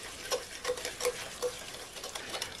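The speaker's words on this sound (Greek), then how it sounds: "Ανακατεύω λίγο." A spoon stirs dough in a bowl, made with oil, before an egg and brandy go in: soft, quiet scraping and light rhythmic ticks about every third of a second, close up, with no talk.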